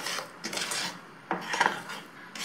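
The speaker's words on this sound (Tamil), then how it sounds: "இப்போ இதை ஸ்டவ் ஆன் பண்ணி இப்போ நம்ம கை விடாம கிளற போறோம்." Badam halwa stirred continuously in a pan on the stove, with a few distinct scraping and clinking strokes of a spoon against the metal, close and fairly quiet.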